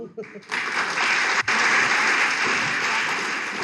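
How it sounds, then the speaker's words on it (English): Students in a lecture-series meeting clap on request, a brief uneven start and then a sustained, fairly even burst of clapping with a momentary dip midway. "Can I hear some clap sounds?"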